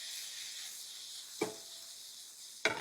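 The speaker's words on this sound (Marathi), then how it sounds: "टमाटे हलके सॉफ्ट होत तर आपल्याला फ्राय करून घ्यायचे आहे।" Chopped tomatoes frying in a pan for a Kolhapuri vegetable gravy, a steady soft sizzle with two brief sharp clinks of a utensil against the pan.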